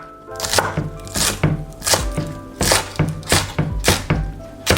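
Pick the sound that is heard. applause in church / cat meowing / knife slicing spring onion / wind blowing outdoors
knife slicing spring onion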